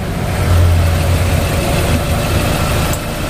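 A Nissan X-Trail T30 engine idles loudly up close with a low rumble, while a faint clicking from between the tensioner and alternator pulley sits within the steady running noise.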